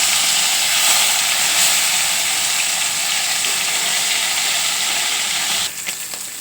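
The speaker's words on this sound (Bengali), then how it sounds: "এবার মাছগুলোকে উল্টে নেব।" Fish frying in hot oil gives a loud, steady, close hiss and sizzle, then the sound drops slightly near the end with a few soft clatters as the pieces are turned.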